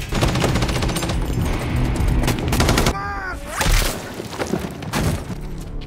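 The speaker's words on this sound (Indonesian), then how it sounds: "Tembak-tembakan pun terjadi." Rapid bursts of gunfire fill a film shootout, dense and loud throughout, with thuds and shattering mixed in and a dramatic score swelling underneath.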